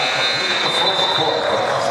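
A loud, steady electronic buzzer sounds the end of a quarter in a high school basketball game in a gym, holding for about two seconds under crowd noise and commentary.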